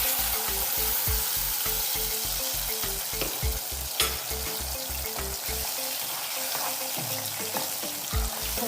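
Masala paste frying in a pan over a low flame, a continuous bubbling sizzle with a rhythmic pulsing texture and occasional stirring knocks, nearby and with no voices.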